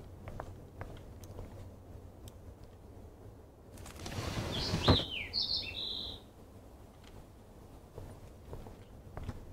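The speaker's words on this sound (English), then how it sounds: "that poor little bird has been trapped in here." In Life is Strange Remastered, a trapped bird gives a couple of quick high chirps amid a burst of fluttering and rustling in the middle of a quiet indoor scene.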